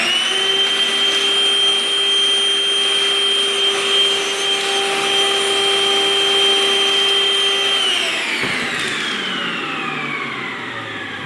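Compact Milwaukee M18 cordless vacuum running loud and close with a steady whine, then switched off near the end, its pitch sliding down as the motor spins down.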